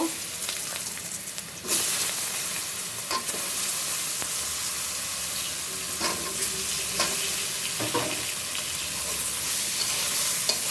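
Eggplant pieces fry in hot oil in a pan where black cumin seeds, turmeric and spinach are also being cooked, giving a steady close sizzle with occasional stirring scrapes and clinks, no talking.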